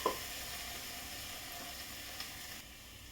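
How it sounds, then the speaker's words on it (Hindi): Biryani masala and whisked yogurt fry in a pressure cooker over a lowered medium flame for egg biryani, a faint, steady sizzle with a soft stirring knock at the start. "इसे मैं अच्छी तरह भून लेती हूँ।"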